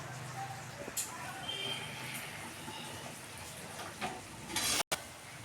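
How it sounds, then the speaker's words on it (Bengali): Moong dal frying in ghee while being stirred in a pan, a steady close sizzle with the scrape of stirring running through, a few louder clicks near the end, no talking. "আমার একটু কম হয়েছে, তাই আমি আর একটু গা ঘি দিচ্ছি।"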